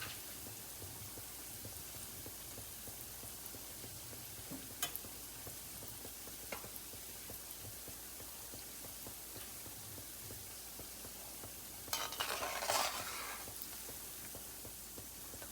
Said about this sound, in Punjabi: ਥੋੜਾ ਜਿਹਾ ਆਪਾਂ ਇਹਨਾਂ ਨੂੰ ਹਿਲਾ ਦੇਣਾ ਹੈ ਤੇਲ ਦੇ ਵਿੱਚ ਜਾਣੇ ਚਾਹੀਦੇ